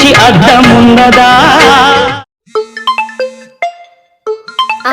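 A mobile phone ringtone announcing an incoming call, a loud melodic tune that cuts off abruptly and gives way to bright, spaced chiming notes with short silences between.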